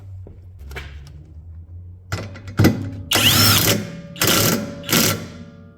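A ratchet tightens a bolt on the rear trailing arm of a 2008 Pontiac G6, sounding as several loud, close bursts of rapid clicking separated by short pauses, preceded by softer metallic handling.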